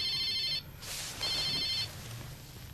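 Telephone ringing indoors during a tense domestic scene in a 2008 Finnish soap drama, two bursts of electronic trilling ring separated by a short pause, fairly close and clear over a low room hum.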